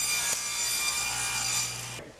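A saw cutting 10-inch wooden pieces for a raised panel box, giving a continuous close rasping and buzzing cut that stops abruptly at the end.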